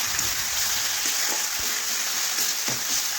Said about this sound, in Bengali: এখন মশলা বেশ কিছুক্ষণ ধরে কষে নেব, তাতে মশলার কাঁচা গন্ধ অনেকটাই চলে যাবে।